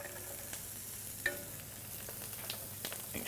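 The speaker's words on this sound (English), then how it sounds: "so I'm just going to chuck in the onions" Onions sizzle softly in a hot pan for a low, steady frying hiss, with one brief louder clink partway through and occasional stirring scrapes.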